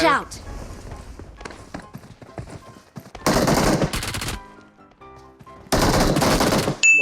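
Sustained bursts of automatic gunfire from the video game PUBG Mobile played on PC, two loud, dense volleys each lasting about a second, with quieter shots and a voice talking in the gaps.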